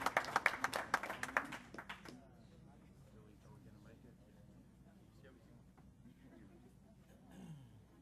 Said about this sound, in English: Let's give all the recipients a big round of applause.